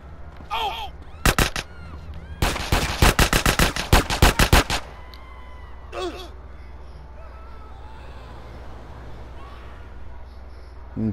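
Gunfire in the video game GTA San Andreas: a couple of sharp shots, then a loud rapid burst of automatic fire, followed by quieter game ambience.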